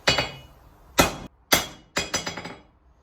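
A hammer strikes hot steel on an anvil while forging a wood chisel, flattening the stock: sharp ringing blows, a single hit, then another, then a quick burst of several strikes, loud and close with no talk.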